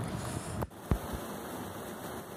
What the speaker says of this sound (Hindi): झरना तो नहीं बट रैपिड्स बोल सकते हैं